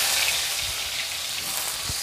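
Chillies fry in hot oil in a pan with a steady, close crackling sizzle and no talk.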